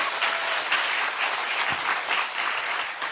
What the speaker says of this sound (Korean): 30대 여성을 위해서 박수 한번 칠까요?